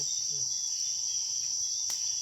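A tree frog calls in a continuous high, shrill trill that stays level and loud from start to finish, with a faint short knock near the end.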